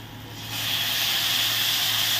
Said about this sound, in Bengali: সাথেই আমি জলটা এখন অ্যাড করে দেব